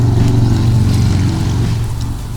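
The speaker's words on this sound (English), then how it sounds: "I'm gonna ride my motorcycle through downtown" A Harley-Davidson Iron 883 motorcycle riding through a city downtown, its engine a steady loud low rumble that holds throughout with slight fading near the end.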